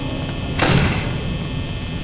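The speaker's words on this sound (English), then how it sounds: "Shut the door." A door slides shut in the horror game Five Nights at Freddy's, a single brief mechanical whoosh and thud against a low background hum.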